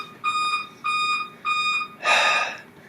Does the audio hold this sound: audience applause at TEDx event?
no